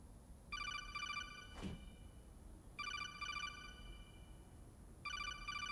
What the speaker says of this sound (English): These goddamn phone calls.